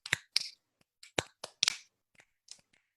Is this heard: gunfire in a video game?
no